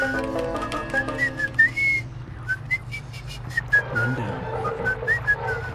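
Someone whistles a cheerful, merry tune in a bright, clear stream of short sliding notes and brief pauses, loud and close, with no talking.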